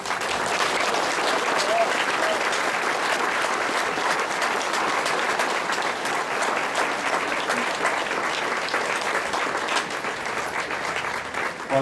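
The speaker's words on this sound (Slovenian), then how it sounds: "mislim, da zaslužijo poseben aplavz." Dense, steady applause from a crowd at a political party committee gathering in Bovec, sustained and even for about twelve seconds with no break.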